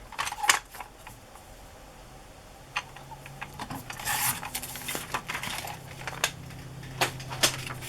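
Paper scrap being trimmed to size for a journal card, with a series of short crisp cutting and handling clicks, scattered and close, over a quiet room hum.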